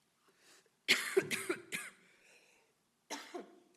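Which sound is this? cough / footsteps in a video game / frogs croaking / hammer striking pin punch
cough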